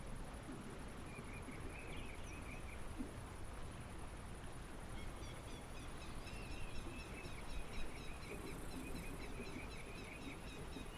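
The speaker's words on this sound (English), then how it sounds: "It's got a good nature bird sound here." Birds calling at a river camp airstrip on the Kavik River in Alaska, faint repeated chirping phrases over a constant wind-like outdoor hiss, distant and low in level.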